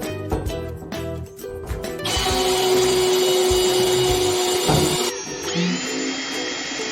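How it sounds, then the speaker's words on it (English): A power drill whirs steadily in short bursts while drilling a positioning hole in an aluminum fuel tank, then runs at a sustained high-pitched whine before stopping and spinning down. "First, drill the positioning hole."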